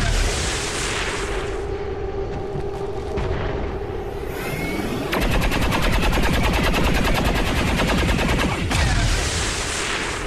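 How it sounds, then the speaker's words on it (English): Overwatch gunfire erupts in XCOM 2 during a fight with a Chrysalid swarm: loud, dense bursts of rapid automatic fire and booms, with a sustained rattling stream in the second half, played alone without talk. "And now triggering those overwatch shots."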